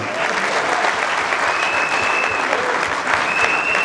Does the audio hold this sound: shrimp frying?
no